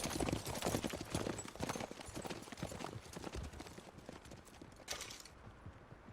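Horses gallop in Red Dead Redemption 2, a dense run of clip-clop hoofbeats with clattering gear and mechanical rattles, loud and steady before easing slightly toward the end.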